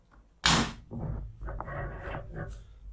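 The front door of a VW Kombi van, rebuilt during restoration, shuts with a sharp, close thump, followed by fainter rattling and settling noises over the next couple of seconds.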